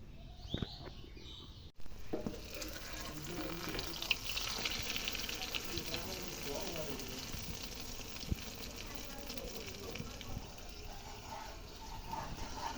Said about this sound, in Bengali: ডিম করলা ভাজা